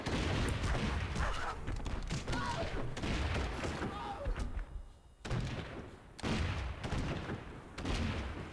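Ancient hand cannon gunfire in the strategy game Civilization 4 (Caveman to Cosmos mod): a continuous barrage of booming shots and thuds, loud and dense, with brief lulls, under people talking.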